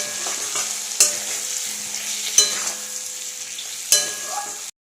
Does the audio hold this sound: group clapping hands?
no